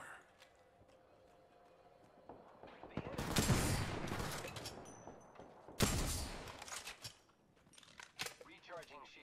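Gunfire in a video game, heavy bursts of rapid shots with loud blasts and thuds that swell and fade, near and dense, with a voice speaking over parts of the action.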